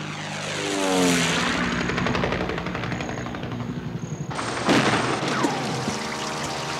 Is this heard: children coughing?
no